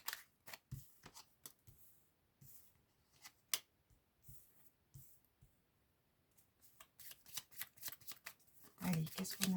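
Béline oracle cards are shuffled in repeated quick riffling bursts, crisp and close, with a few pauses between rounds and a voice speaking softly over parts of it.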